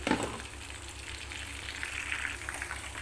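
Soya chunks frying in oil for a chilli dish, a soft continuous bubbling sizzle, fairly quiet and close, with no talk over it.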